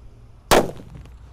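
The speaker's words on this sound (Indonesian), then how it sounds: "selanjutnya di sini ada mercon thunder kita nyalakan" A single sharp, loud bang from a thunder firecracker explodes after a quiet lead-in, then rings off with a short decaying tail.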